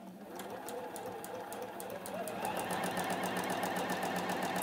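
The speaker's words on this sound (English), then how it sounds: "I'm going to sew these two together now." A sewing machine stitches quilt fabric pieces together with a fast, even run of needle strikes that speeds up partway through, close and continuous with a low motor hum beneath.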